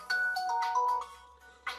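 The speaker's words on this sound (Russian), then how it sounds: "Давайте послушаем звук рингтона." A standard ringtone plays at full volume from an OSCAL C70 smartphone's single speaker, a short run of clear melodic tones.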